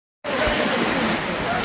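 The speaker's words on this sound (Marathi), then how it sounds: "पाऊस खूप जोराचा आहे इथं वणीगडावर" Heavy rain pours at night on Vani fort at Saptashrungi, a dense, steady roar that starts abruptly and continues loud and close without a break.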